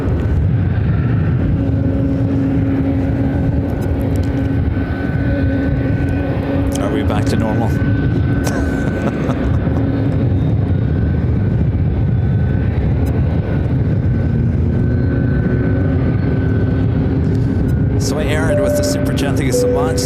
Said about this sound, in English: FedEx flight 1355, a 767-300 freighter, 6 years of age, heading to Memphis, also heading over here to 26 right